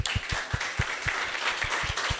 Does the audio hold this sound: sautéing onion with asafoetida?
no